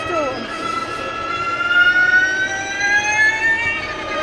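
A McMurtry Spéirling electric car accelerating hard, its high electric whine climbing steadily in pitch for several seconds, loud and close, with a voice briefly heard over it.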